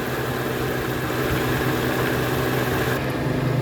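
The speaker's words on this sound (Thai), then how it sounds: "ตอนนี้เราปิดฝากระโปรงเทสการทำงานกันนะคะ ขนาดนี้ยังเดินเบาอยู่นะคะ" A Honda City car engine idles with the hood closed, a steady, continuous low hum with faint vibration that holds evenly throughout, with no talk over it.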